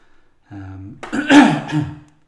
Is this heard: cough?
yes